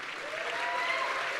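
An audience claps during a political speech, a dense, steady wash of applause filling the whole moment, heard from a distance in a large room.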